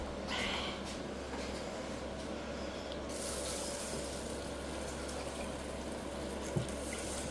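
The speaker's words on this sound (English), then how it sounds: "So can we put some water in there?" Water is poured into a pot of simmering curry, a faint steady splashing stream over a low background hum, with a short soft knock near the end.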